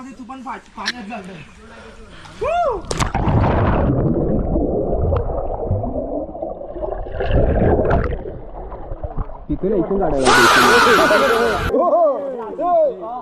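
A GoPro dropped into a pool turns the sound muffled and gurgling, with bubbling and dull distorted voices, then clearer talking and laughter return.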